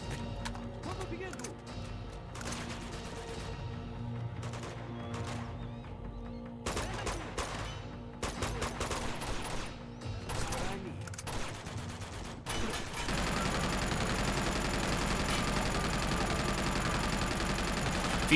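Rapid AK assault rifle fire in Uncharted 2 crackles in dense, uneven bursts with short pauses, switching late into a steady, loud clatter of combat noise, with voices mixed in.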